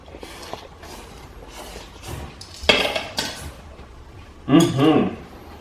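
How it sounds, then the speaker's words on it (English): Cold tossed Xinjiang egg noodles being mixed in a bowl, soft clinks and scrapes of utensils against the dish, with a couple of louder bursts of clattering, close and alone. "Just give it a slight mix around."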